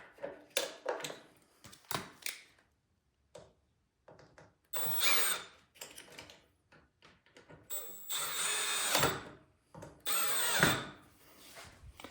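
Power drill or driver tightening parts on a Craftsman snowblower that will not start, in short close bursts of whirring with pauses between, some runs longer and louder, no talk.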